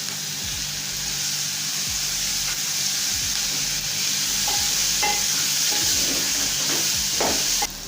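Steady stirring in hot oil in a pot, with ginger garlic paste, for a matoke and beef stew: scraping strokes over a continuous close sizzle throughout.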